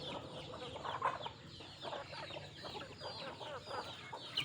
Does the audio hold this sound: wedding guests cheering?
no